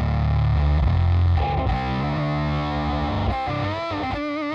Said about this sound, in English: A lot of noise on this pedal when you turn the drive all the way up.